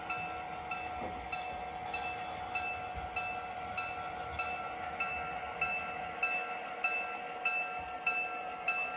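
Train idling in a rail yard on the South Olympic Branch before departure, a steady low mechanical hum with faint rhythmic metallic ticks, heard from nearby at moderate level without talk.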